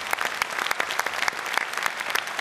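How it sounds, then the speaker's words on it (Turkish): An audience at a Turkish classical music concert claps steadily, dense applause with sharp individual claps rising out of the crowd, sustained and fairly close for the whole stretch. "sevgili Engin Candan huzurlarınızda güçlü alkışlarınızla lütfen."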